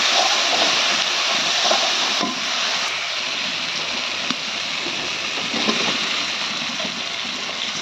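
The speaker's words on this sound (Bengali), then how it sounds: "এখন আমি ডিমটা ঢেলে দেবো" Beaten eggs poured into hot, nearly cooked fried onion masala for egg bhuna, giving a steady, broad sizzle and hiss that holds at an even level throughout, close and without talk.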